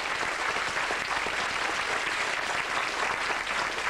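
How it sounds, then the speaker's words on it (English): A concert audience breaks into sustained applause, a dense, even wash of clapping from many hands that carries steadily through the whole moment. "a big round of applause"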